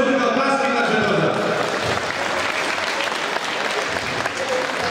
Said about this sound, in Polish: Grzegorz Szurka, oklaski na Grzegorza.